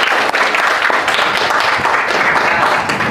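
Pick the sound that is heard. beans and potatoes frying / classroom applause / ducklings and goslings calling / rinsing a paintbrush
classroom applause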